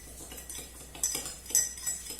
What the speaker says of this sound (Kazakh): Және толтырмай бір чай қасық міне тұз.